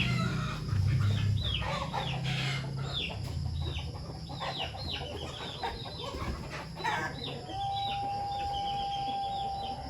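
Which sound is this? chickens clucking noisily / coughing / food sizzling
chickens clucking noisily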